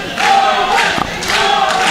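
Wrestling crowd cheering and shouting for a wrestler, a dense, loud wash of voices with swelling surges, close and continuous.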